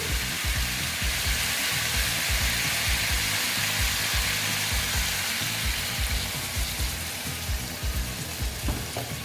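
Drumstick (sajna) curry sizzles and fries loudly in a pan after a little water is added, a dense, steady hiss running throughout with no talk.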